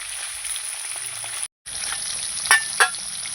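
Hilsa fish pieces frying in a kadai, steady hissing sizzle up close with a brief cut of silence and a couple of sharp spatter pops near the end.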